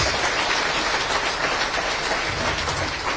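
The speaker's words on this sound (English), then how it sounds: "Can we have a huge round of applause to all these toppers?" Sustained applause from an audience honouring UPSC exam toppers, a dense, even wash of many hands clapping that holds steady for a few seconds without pause.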